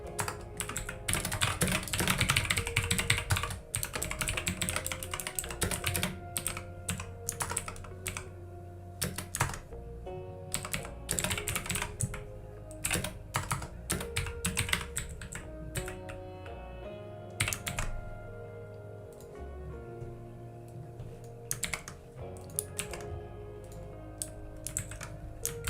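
Steady, close typing of code on a computer keyboard, with quick bursts of key clicks, brief pauses between phrases, and a few heavier keystrokes, under soft background music.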